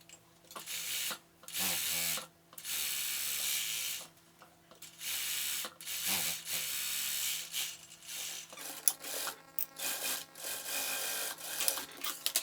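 An overlock sewing machine joins the shoulder seam of a blouse in loud bursts of rapid mechanical stitching, with short pauses and quieter fabric handling between runs.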